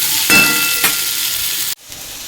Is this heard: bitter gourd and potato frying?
yes